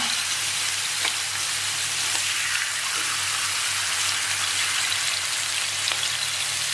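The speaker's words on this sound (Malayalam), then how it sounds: "ഇനി ഇതൊന്ന് 2 സൈഡിലൂടെ ഒരു ബ്രൗൺ കളറാവുന്ന വിധം നമ്മൾ എന്ത് ചെയ്യുക, ഫ്രൈ ചെയ്തെടുക്കാം." Ingredients frying in a modest amount of oil inside a clay pot for biryani, a steady, close sizzle with soft crackling pops running unbroken throughout, no voices.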